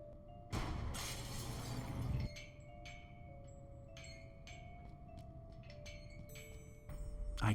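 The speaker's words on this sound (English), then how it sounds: "I got rid of the glass above the door to the lab." Glass shatters in the Cthulhu adventure game Gibbous, a loud crash with about two seconds of scattering shards, followed by quieter tinkling fragments and pieces settling sporadically, then a final louder rattle.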